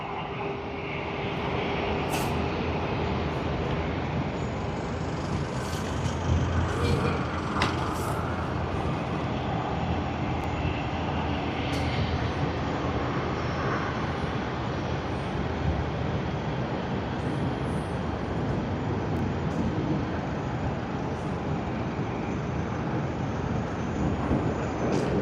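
Jet airliner landing at Sydney Airport, a steady broad engine roar heard from a distance that holds strong and even for the whole stretch, with no one talking.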